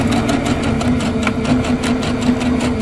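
A sewing machine hums steadily and stitches continuously across a bulky quilt seam on a pillow wall hanging, a close, even mechanical whir with no break throughout.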